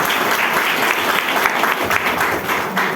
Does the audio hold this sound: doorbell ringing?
no